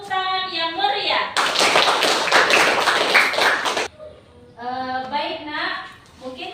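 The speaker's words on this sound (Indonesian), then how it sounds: "yuk kita kasih apresiasi sekali lagi dengan tepuk tangan yang meriah" A class of students claps together in a classroom, a loud, dense burst of applause lasting a few seconds, with an adult voice speaking before and after it.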